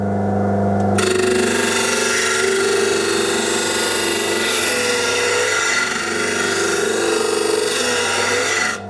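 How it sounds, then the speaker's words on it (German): A disc sander starts up and runs steadily, grinding a curve into wood with a continuous rasping whir that holds for several seconds before easing off. "Wenn wir jetzt hier eine Rundung schleifen."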